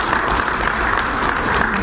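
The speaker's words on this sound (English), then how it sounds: "I think we deserve a big round of applause for that." A crowd claps steadily throughout, a dense, loud wash of applause with no pauses.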